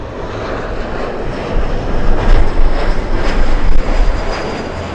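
An Emirates airliner passes close at Los Angeles airport with a loud, rushing jet roar that builds and peaks midway, then holds strong, heard alone without talk.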